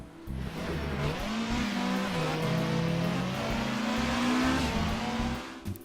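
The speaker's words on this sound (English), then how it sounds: "an onboard sound clip of me in the game in a V6 Mondeo" A continuous engine roar from an in-car view of a V6 Ford Mondeo touring car in the rFactor racing game, pitch rising and dipping as the revs shift, loud and steady throughout.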